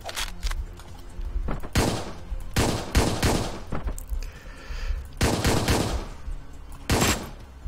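Gunfire in the video game Hotline Miami 2: Wrong Number, a loud series of punchy shots and short bursts spaced about a second apart, booming and close, with no voices over them.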